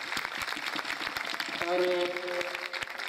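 Congregation at a church First Communion service applauding, a dense steady wash of many hands clapping throughout, with voices and a brief tonal hum mixed in underneath.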